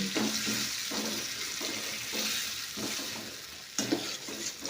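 Raw mango dal being stirred in a pan, rhythmic scraping strokes repeating roughly every second under a steady sizzle, close and clear, with a sharper clack near the end.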